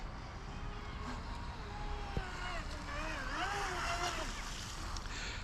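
WLtoys WL916 RC speedboat racing across open water, its small motor whining steadily and rising and falling in pitch as it carves corners, heard continuously at moderate distance over a wash of water and wind noise.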